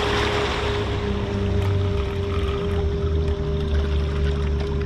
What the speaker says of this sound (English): We just had a crew boat come up to the tanker for a second and turn around.